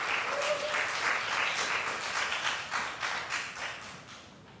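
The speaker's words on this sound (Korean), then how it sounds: "큰 박수로 맞아 주시기 바랍니다." Church congregation applause during a Sunday worship service, a dense burst of many hands clapping with distinct rhythmic claps emerging, gradually tapering off toward the end.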